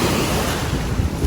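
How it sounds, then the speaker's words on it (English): Ocean surf crashing steadily on a seaweed-strewn beach on the Caribbean coast of Mexico, a continuous loud wash of waves with wind buffeting the microphone, no voices. "waves are crashing in my legs, getting a little bit of refreshment on my calves"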